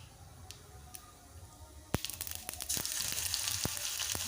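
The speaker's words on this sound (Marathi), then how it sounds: "तेल चांगलं गरम झाले की त्याच्यामध्ये टाकू जिरं, मोहरी अर्धा चमचा" Cumin, mustard seeds and garlic sizzle in hot oil, beginning with a few faint crackles, then bursting into a loud, steady spitting hiss with sharp pops that carries on to the end.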